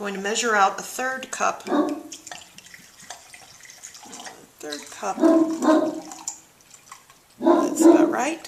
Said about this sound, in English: That's my dog barking out there.